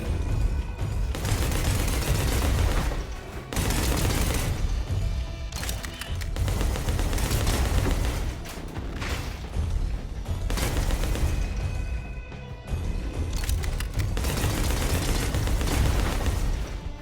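Enemy gunfire in a video game, dense, loud bursts of shots and booms running almost nonstop, with brief pauses between volleys.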